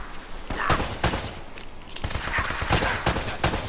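Gunfire in the video game Uncharted: Drake's Fortune, a string of sharp separate shots and short bursts at an uneven rhythm, fairly close, over a low background hum.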